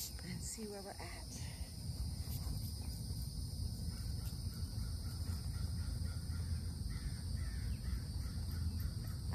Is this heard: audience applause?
no